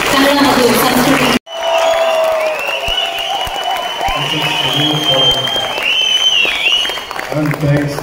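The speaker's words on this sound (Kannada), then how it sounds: "ಒಂದು ದೊಡ್ಡ ಗೌರವದ ಚಪ್ಪಾಳೆ ಬರಬೇಕು" Loud applause and some cheering from an audience at a Kannada event in Dubai burst out after a brief silence and continue strongly, with voices and a ringing tone in the room.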